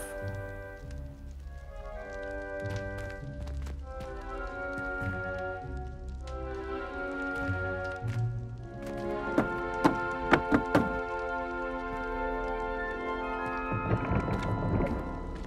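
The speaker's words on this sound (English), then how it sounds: "You must tap the barrel, 2 from the bottom, middle of the second row, in the rhythm of Helga Hufflepuff" A wooden barrel tapped in a rhythmic pattern in Hogwarts Legacy, a short run of distinct knocks standing out over sustained musical tones and ambient sound.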